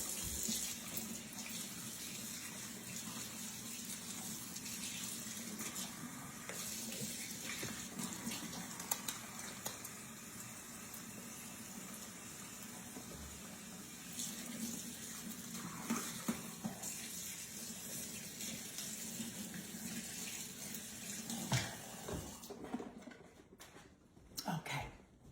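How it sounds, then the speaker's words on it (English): Tap water runs steadily into a kitchen sink while hands are washed, a continuous soft splashing rush that goes on for most of the stretch before cutting off near the end. "Let me give my hands a wash."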